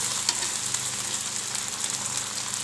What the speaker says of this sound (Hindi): देखिए मैं फ्राई कर रही हूँ भिंडियों को